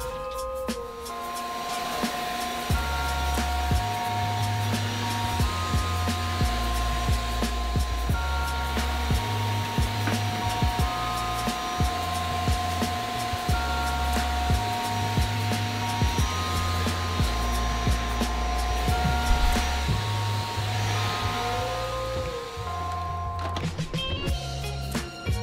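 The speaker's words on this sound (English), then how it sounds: "First I gotta vacuum my studio." A vacuum cleaner drones steadily nearby in a photo studio, its motor whine constant, with rhythmic thumping and bumping as it's pushed around.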